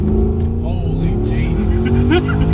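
A cammed LS V8 in a Holden VX Calais accelerates hard, its loud engine drone climbing steadily up close while people talk over it.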